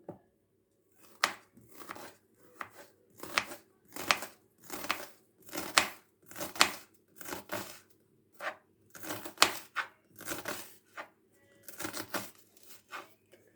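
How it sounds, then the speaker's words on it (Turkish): A knife chops repeatedly through crisp onion on a board, close up, in uneven bursts of quick crunchy cuts with short pauses between. "İlk olarak soğanımı piyazlık olacak şekilde doğramakla işe başlıyorum."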